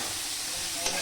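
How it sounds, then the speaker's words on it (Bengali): Onion, garlic and tomato fry in a pan with a steady, dense sizzle that fills the whole stretch, with a brief stirring scrape near the end and no voices. "এবার পেঁয়াজ রসুন দিয়ে এটাকে ভালো করে ফ্রাই করব।"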